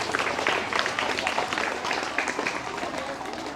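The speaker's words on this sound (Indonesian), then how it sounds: "tepuk tangan untuk kita semua" Students in a classroom clap together in a steady burst of dense, continuous applause, fairly loud and close throughout.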